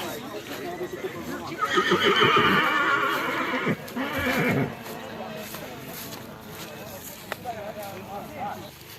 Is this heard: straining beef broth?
no